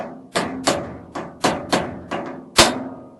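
Seven sharp hammer taps ring out on the suspension parts of a Whirlpool Cabrio washer, each a distinct metallic knock with a short decay, spaced at an uneven rhythm about every half second.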